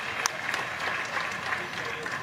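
Steady applause from a crowd, continuous clapping throughout at moderate loudness, with some voices mixed in.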